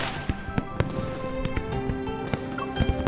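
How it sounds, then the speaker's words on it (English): Distant fireworks in a narrated night-sky story, heard as a steady field of crackling pops and scattered sharp bangs over a continuous hissing wash, with no voice over it. "Distant fireworks suddenly illuminate the night sky."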